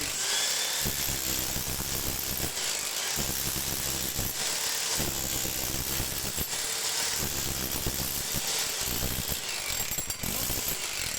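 An old Eltos rotary hammer, about nine years old, pounding into brick with a fast, steady mechanical rattle, loud and close, in repeated bursts with short pauses.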